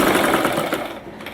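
Sewing machine stitching the sleeve of a readymade dress, a rapid mechanical chatter of needle strokes that is loud at first and eases off toward the end.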